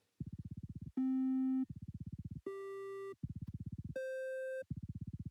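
A chiptune-style melody from a runtime sound generator: steady pulsing buzzy tones alternate with long pure electronic beeps at different pitches, clean and loud with no voices.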